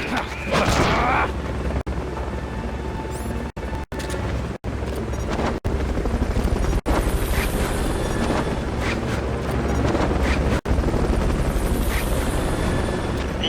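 A military chopper from the Metal Gear video game thrums loud and steady through the whole stretch, with its low rotor drone, a few brief cuts and an early burst of noise.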